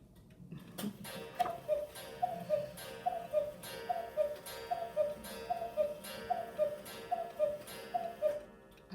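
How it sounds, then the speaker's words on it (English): A cuckoo clock ticks steadily in a quiet room, each tick paired with a soft chiming tone, repeating in an even rhythm of about two beats per second, close and moderately loud with no talking. "I was waiting for the cuckoo clock."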